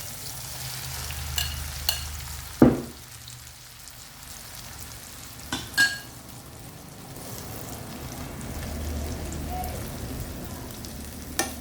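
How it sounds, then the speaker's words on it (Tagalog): Okra dropped into a hot pan for adobong okra, giving a soft steady sizzle with a few sharp clinks and stirring knocks from the utensil, fairly quiet and close, with no talking. "yung okra guys, ilagay ko na dito"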